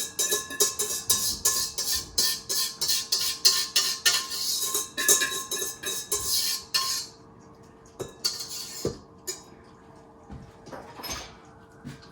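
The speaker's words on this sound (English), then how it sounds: "Let me just scrape all this goodness." Purple ube ice cream mixture scraped inside a freezer-chilled ice cream maker barrel, a busy run of rapid metallic scrapes and clinks that thins out into sparser, quieter scraping.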